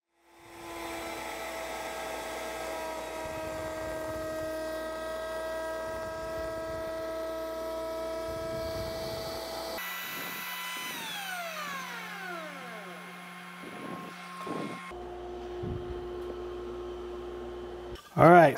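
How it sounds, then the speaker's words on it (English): A router table with a dovetail bit cuts sliding dovetail joints in wood, producing a steady, loud, high whine. Partway through, the pitch sweeps down as the router winds down, and a few short knocks follow near the end. "I have a dovetail bit set up in the router table"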